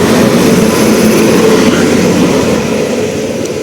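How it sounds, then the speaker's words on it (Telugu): A train passes on the adjacent track near Renigunta railway station, heard from aboard another train as a loud, steady rumbling roar that eases slightly toward the end. "మన పక్క ట్రాక్లో ఒక ట్రైన్ అయితే వస్తుంది"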